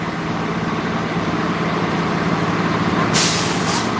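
City bus idling with a low rumble, then a sharp, loud air-brake hiss bursts out near the end, followed by a shorter second release.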